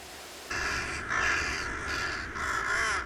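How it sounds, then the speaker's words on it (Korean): Crows caw loudly in a dense bamboo grove in Ulsan, Korea, several harsh overlapping calls close by that rise and fall in steady succession over a quiet woodland background. "유독 울산에 까마귀가 몰리는 이유다."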